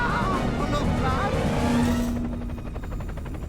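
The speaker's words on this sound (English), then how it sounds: "now we have this fun helicopter lava hole level" Helicopter in the Wallace & Gromit Project Zoo video game, a steady droning rotor and engine hum with a sustained tone, loud and continuous, mixed with game music and a voice speaking over it early on.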